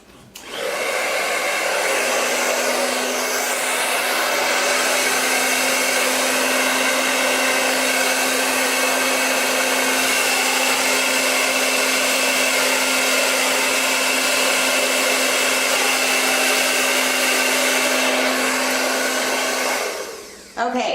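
A hair dryer blows steadily on low across wet acrylic pour paint, a loud, constant whooshing hum that starts abruptly, holds unchanged for about twenty seconds, then cuts off; no voices.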